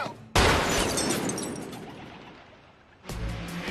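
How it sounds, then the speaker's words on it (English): Gunshots ring out in a tense movie scene: a sharp loud blast followed by a long decaying rumble, then a second burst a few seconds later. "Shots fired. Repeat, shots fired."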